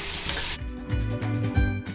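Mustard seeds, urad dal, cumin, curry leaves and onion are tempered in hot oil for a cabbage curry; a loud sizzle and crackle starts it off, then the frying settles to a steady hiss with a few bursts of popping, heard close up and without talk.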